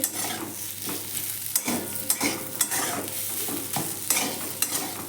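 A spoon stirs spiced potatoes in a hot pan for potato-stuffed puris, giving a steady close-up sizzle broken by repeated scraping knocks against the pan.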